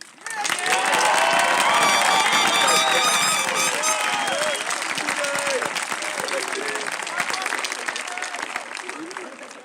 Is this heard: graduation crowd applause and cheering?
yes